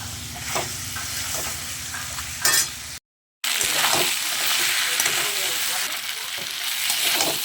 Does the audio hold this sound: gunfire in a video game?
no